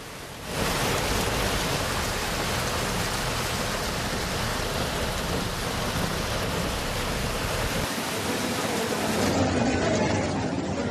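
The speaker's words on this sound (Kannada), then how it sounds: "ಧಾರಾಕಾರ ಮಳೆ ಸುರಿದಿದ್ದಾಗಿ ಮೆಜೆಸ್ಟಿಕ್ ರೈಲ್ವೆ ನಿಲ್ದಾಣದಲ್ಲಿ ಮೇಲ್ಗಡೆಯಿಂದ ನೀರು ಸೋರ್ತಾ ಇದೆ" Heavy rain pours down in a dense, steady roar at Majestic railway station, Bengaluru, with water leaking from the roof; loud and continuous, with the low rumble dropping away near the end.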